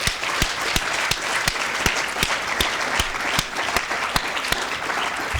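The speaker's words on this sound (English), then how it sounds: "a huge round of applause, please" A large audience at a student union awards ceremony applauds steadily, dense clapping with a few sharper, louder claps standing out, continuous for several seconds with no talking.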